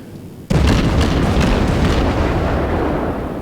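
A loud naval gun salvo in World of Warships bursts out suddenly, then a sustained rumbling roar rolls on steadily, close and heavy.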